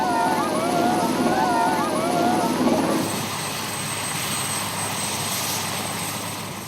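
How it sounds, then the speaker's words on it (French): Swiss helicopters arrive over a football field turned into a landing place, their engines and rotors a steady loud drone under narration, with a warbling tone early on that gives way to a rougher, broader engine roar. "Sur le terrain de football, spontanément transformé en place d'atterrissage, les hélicoptères suisses sont attendus avec impatience."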